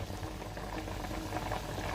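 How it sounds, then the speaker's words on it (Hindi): Water comes to a rolling boil in a cooking pot, ready for rice for a chicken and mixed vegetable pulao; a steady, dense bubbling hiss continues at an even level throughout, close by, with no voices. "पानी को बॉयल आ चुका जी।"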